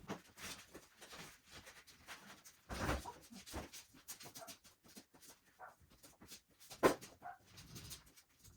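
A puppy moves down indoor stairs with soft scattered footfalls, quiet panting and faint whimpers, close by, in irregular bursts with gaps between.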